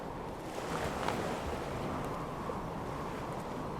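Ocean waves in the Stormworks game wash in a steady broadband rush with a soft swell near the middle, close and continuous with wind-like noise and no talk.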